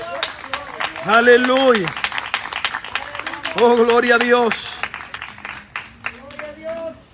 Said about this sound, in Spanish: Denle un aplauso a la presencia del Señor